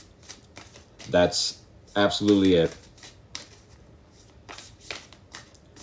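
Tarot or oracle cards being shuffled by hand, a series of crisp riffling bursts close to the microphone, interleaved with a person speaking over part of the shuffling.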